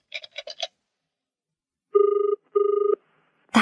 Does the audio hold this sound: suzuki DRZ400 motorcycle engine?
no